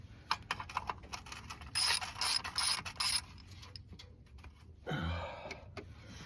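Ratchet loosening short oil pan bolts on a 2003 Mitsubishi Lancer, quick bursts of rapid clicking in several separate runs with pauses between, close and fairly quiet.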